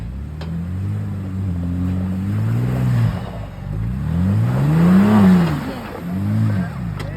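An off-road vehicle's engine strains and revs while climbing a rock ledge on a mountain trail, rising and falling in several surges, loud and close, with people talking over it.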